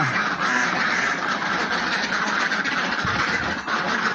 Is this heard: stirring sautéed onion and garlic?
no